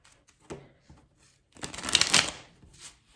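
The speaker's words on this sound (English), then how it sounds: "So I'm going to shuffle these 4 times." A deck of playing cards is shuffled during a card trick demonstration: a brief riffle first, then a longer, louder burst of rapid fluttering card clicks, close and clear with no talking.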